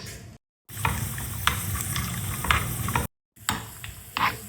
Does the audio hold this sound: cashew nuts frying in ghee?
yes